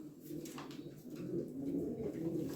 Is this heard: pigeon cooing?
yes